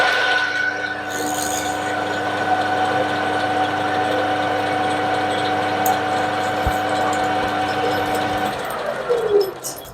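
A metal lathe takes about 3 mm off the end of a part, a steady whirring hum with a grinding cutting tone that winds down near the end.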